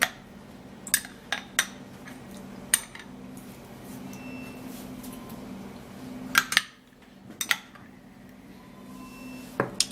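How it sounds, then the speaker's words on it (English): A spoon stirs a vaseline and onion hair mixture in a bowl, giving sharp scattered clinks and scrapes of metal against the dish over a low steady hum, close and quiet. "so you stir it this way"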